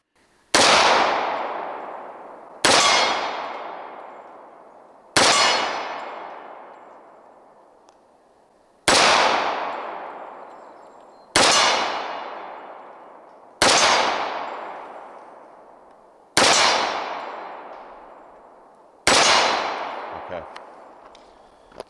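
Shots from a Sbardella Arms Full Stroke Commander 1911 pistol firing Remington ammo: eight loud, sharp reports spaced about two and a half seconds apart, each ringing out in a long decaying tail.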